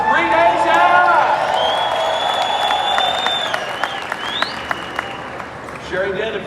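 A live audience at a 4Life Connexion event applauds and cheers, a steady wash of clapping with whoops and scattered voices throughout, with talking mixed in.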